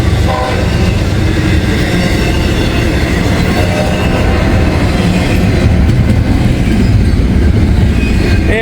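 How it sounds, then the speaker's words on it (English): A single-car work train passes close by in a loud, steady rumble of rail noise with rhythmic wheel clatter and a horn-like tone, continuous for the whole stretch. "that work train shows up between now and whenever"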